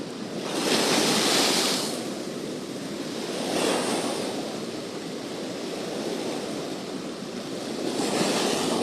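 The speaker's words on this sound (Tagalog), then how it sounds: "Malaki-laki yung alon." Large ocean waves break on the shore at Siargao, with loud broadband surges of surf crashing in swells around the start and again near the middle and end, over steady wind noise on the microphone.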